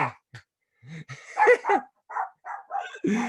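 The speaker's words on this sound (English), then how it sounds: "the dog's chiming in here" A dog barks in short bursts during a conversation, its sharp yips and barks mixing with voices that carry on talking.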